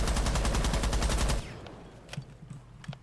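Rapid automatic gunfire rattles loudly for over a second, then cuts off, leaving a few scattered distant shots and faint clicks.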